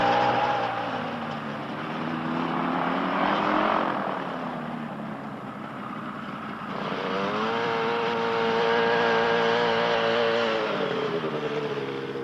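A small light aircraft with only the pilot aboard drones steadily in flight, its engine tone rising and falling with harmonic whine, loud and continuous without talk.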